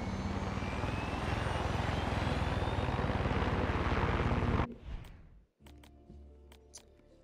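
Loud, steady helicopter rotor and engine roar in Far Cry 6 fills the air, then cuts off abruptly, followed by a few faint clicks and a low hum.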